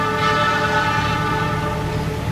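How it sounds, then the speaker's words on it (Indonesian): The Argo Lawu express train speeds through a station switch, its loud, sustained horn tone riding over the heavy rumble of the passing cars, close and continuous. "Mantap, kereta api Argo Lawu."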